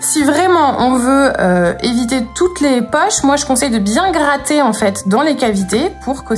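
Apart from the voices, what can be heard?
No everyday noises stand out.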